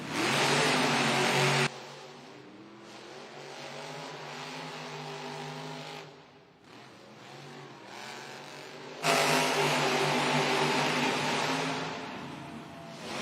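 Monster trucks racing in a stadium arena, engines roaring loud and continuous with rising and falling revs, a louder surge at the start and again late, heard from a distance across the venue without talk.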